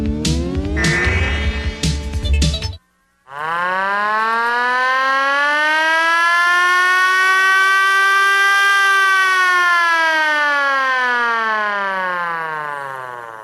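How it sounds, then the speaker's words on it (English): A siren wails, steady and loud after a short burst of rattling mechanical noise and a brief silence, holding a long rising and slowly falling tone on its own for about ten seconds. "Nice siren sound, right, Eugene?"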